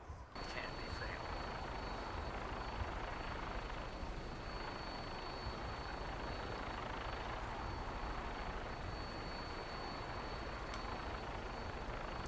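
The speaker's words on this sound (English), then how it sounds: "hopefully we'll save it right before we get on the big helicopter thing" A helicopter in the video game Fallout 4 produces a steady, continuous rotor and engine drone that holds at an even level throughout.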